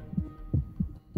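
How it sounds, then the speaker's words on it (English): A thumping heartbeat effect from the game We Happy Few pulses in a low double-beat rhythm, close and muffled, with no talk over it. "that heartbeat thing is weird"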